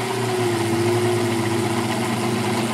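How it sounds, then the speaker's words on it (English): A small Sherline machine motor labors as it roughs aluminum on a deep cut, giving a steady, loud droning hum with a strained tonal whine that holds constant throughout without any talking. "The motor's definitely not enjoying this very much."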